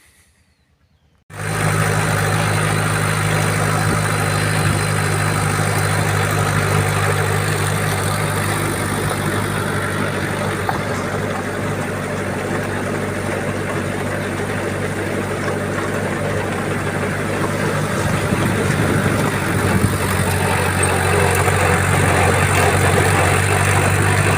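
A vehicle engine idles steadily after unloading a load of clay on a village road in summer, a continuous near, loud mechanical drone with low hum and broadband rattle running unbroken for about twenty-three seconds.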